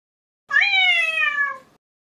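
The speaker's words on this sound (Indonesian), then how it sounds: "dasar kucing bego" Cat meowing in the Garten of Banban video game, a single clear, drawn-out meow lasting about a second, loud and isolated against silence.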